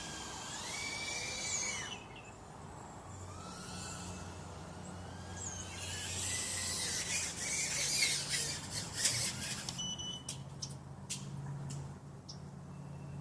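Arris X90 quadcopter drone with 1104 7800 kV brushless motors and Gemfan 2035 props, giving a high-pitched whining buzz that rises and falls in pitch as the motors rev, steady and fairly close throughout.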